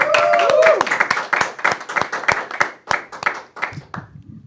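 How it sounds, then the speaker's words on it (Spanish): A church audience gives applause, sharp individual claps ringing out close by and thinning toward the end, with a brief musical tone and murmuring voices underneath. "Le damos un fuerte aplauso a Astrid Cabrera."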